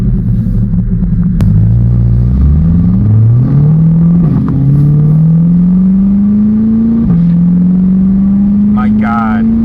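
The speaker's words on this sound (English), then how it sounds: "Pops so freaking loud on the shifts" A C8 Corvette with high-flow catalytic converters roars loud and close from the cabin, its engine note climbing through the gears with sharp pops and cracks at the shifts and a deep rumble throughout.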